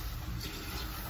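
Hot water pours into a pan of toasted pasta for a Mexican sopa aguada, a faint steady rushing splash that runs evenly with no talk.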